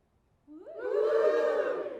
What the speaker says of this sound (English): Give me a cheer if you're here